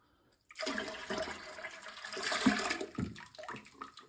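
A toilet flushes once, close and loud, with a rushing gush of water that holds steady and then tapers into trickling refill sounds.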